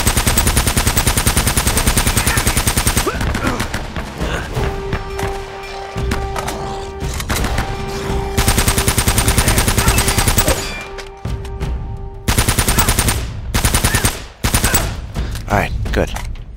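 Machine gun fire in the action game Uncharted: Drake's Fortune, loud rapid bursts of automatic shots in several long strings, broken by pauses with lighter impacts and a steady electronic tone, a voice speaking in between.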